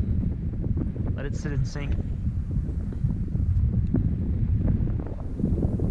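Wind blowing across Lake Eucumbene at Middlingbank, a steady low rumbling buffet on the microphone running throughout, with someone speaking briefly over it.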